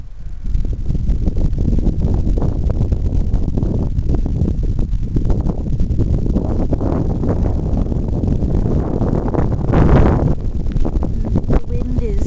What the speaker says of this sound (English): The wind is really whipping, so there's a lot of snow here.